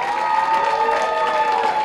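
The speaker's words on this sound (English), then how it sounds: "And clap for the staff, and they kick ass." Audience at the Irvine Improv comedy club applauding the staff during a Friday stand-up show: dense, steady clapping from a packed room with faint crowd noise, sustained at an even level for about two seconds, with no talking over it.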